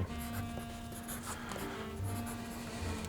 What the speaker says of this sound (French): je dessine un des personnages de la BD